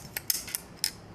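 A rifle being field stripped with the bolt carrier and charging handle removed: four or five short, sharp metallic clicks and scrapes spaced irregularly, close and quiet with no talking.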